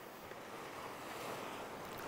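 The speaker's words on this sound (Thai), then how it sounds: "อุ้ยลมแรงจริงๆพี่น้องเอ้ย" Strong seaside wind roars steadily against the microphone along with broad surf noise, a loud, continuous gusting rush with no pauses.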